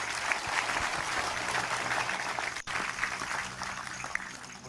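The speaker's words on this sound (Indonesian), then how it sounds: "Oke, tepuk tangan untuk Mas Silop." An audience at a Kenduri Cinta gathering applauds for Mas Silop, dense and sustained clapping filling the whole stretch with a brief dip midway and faint voices underneath.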